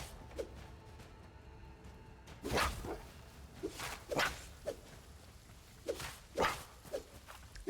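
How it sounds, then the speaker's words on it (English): Several short dog-like yelps from a creature getting hurt in the Hytale video game. They come as separate brief cries spread over a few seconds, mixed with soft footstep-like thuds, and no one talks over them. "their hurt animation sounds like one of the cute sounds a real dog would make if it was trying to get your attention"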